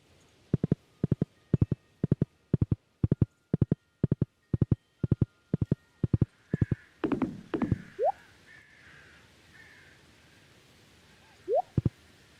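Horse hooves clip-clopping in the Stardew Valley video game, a steady run of crisp, evenly spaced game-sound steps that stops abruptly, followed by a few brief chirpy effects and near silence.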